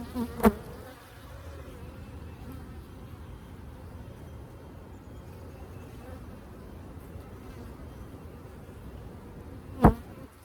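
Honeybees hum in an open Layens hive during an inspection, a steady low buzz throughout with two brief louder knocks near the start and end.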